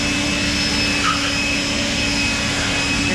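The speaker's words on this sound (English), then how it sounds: "I just like you to stand still, and I'll blow the blower." A leaf blower runs near a horse with a steady, loud whooshing roar and a constant whine, unbroken and alone for the whole moment.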